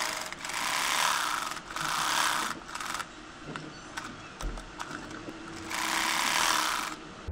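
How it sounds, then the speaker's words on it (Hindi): A sewing machine stitches around the bottom part of a frock in three separate bursts of fast, close, rattling running, with quiet handling between them. "ये देखें अब हम नीचे वाले हिस्से पर सिलाई लगाएंगे चारों तरफ"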